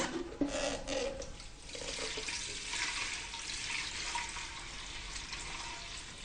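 A steady stream of water, 1.5 litres, splashing and pouring into a pot for medicinal porridge, continuous and fairly quiet, with no voices.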